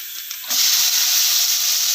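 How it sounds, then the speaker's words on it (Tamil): A sudden burst of loud, steady hissing and sizzling as mustard seeds splutter in hot oil, continuing without pause. "கடுகு சேர்த்துக்கலாம் கடுகு நல்லா பொரியட்டும்"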